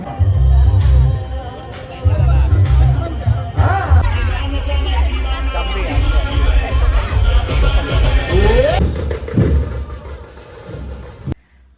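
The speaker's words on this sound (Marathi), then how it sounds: "गर्दी तर खूप जास्त आहे भयानक गर्दी" Large, dense crowd at a Ravan Dahan (Dussehra) festival gathering, a continuous loud hubbub of many voices and shuffling with low rumbling, filling the whole stretch before dropping off at the end.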